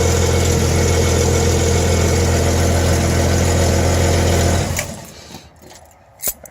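An old 75-year-old John Deere 440 tractor engine idles steadily and loudly with a deep, even low drone, then cuts off abruptly, leaving faint scattered knocks and rustles.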